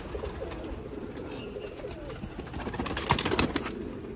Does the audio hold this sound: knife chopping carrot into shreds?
no